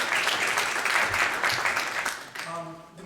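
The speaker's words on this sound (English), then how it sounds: "Please have a round of applause for these folks" Broadband clapping from a crowd fills most of the stretch, fairly steady, then fades as a voice begins speaking near the end.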